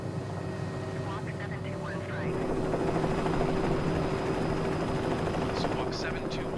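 Helicopter flying over Sao Miguel in the Azores, a steady loud rotor and engine drone throughout that swells slightly louder partway through, with faint higher tones layered on top.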